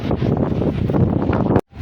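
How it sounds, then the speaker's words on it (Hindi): Strong wind blows outdoors across the microphone, a dense, loud, continuous rumbling roar that cuts off abruptly near the end. "इतनी हवा चल रही है ना, मैं आपको समझा नहीं सकती, बहुत ज़्यादा हवा चल रही है"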